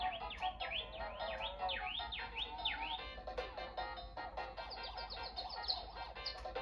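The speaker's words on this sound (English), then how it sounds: "So that there's a chirping sound you're hearing here." Repeated high, sweeping chirps from a chick in the video game EarthBound, rising and falling in quick succession over a steady electronic background tone, fairly faint and with no voices.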